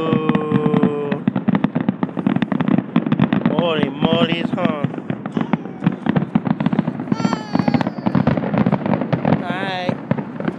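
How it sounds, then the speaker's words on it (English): Fireworks crackle and pop in rapid, dense bursts of sharp close bangs throughout, loud and continuous, while people talk and exclaim over them. "See the pretty fireworks"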